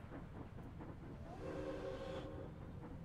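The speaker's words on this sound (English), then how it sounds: "I'm starting to think I should have less trains. They're just too loud." Within a train-building video game, a steam locomotive whistle sounds as a single sustained, hissing tone lasting about a second, rising out of a busy background of rumbling and clattering rail sounds, with no speech.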